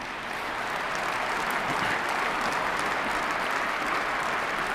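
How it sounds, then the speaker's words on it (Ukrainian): Steady, dense applause fills a large hall as the audience claps throughout a speech by Vladimir Putin, sustained at an even level with no voices over it. "майже уся зала почала аплодувати, крім Шойгу та Лаврова"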